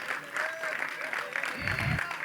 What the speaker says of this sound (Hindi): 3 हीरोज के लिए एक बार जोरदार तालियां